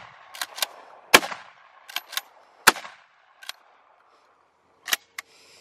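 A 12 gauge shotgun fired from the hip outdoors near a small hill, with several sharp, loud bangs at irregular intervals, some followed by brief echoing tails, separated by quiet gaps.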